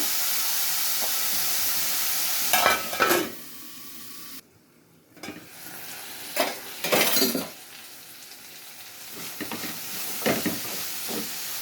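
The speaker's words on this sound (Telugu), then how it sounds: "చిక్కుడుకాయ ముక్కలు ఉల్లిపాయలు కూడా నూనెలో మగ్గిపోతాయి ఫ్రెండ్స్" Broad bean pieces and onions cooking slowly in oil over a low flame for a tomato curry. A steady hiss and sizzle sits close by, broken by a few louder clattery stirring bursts and one brief gap.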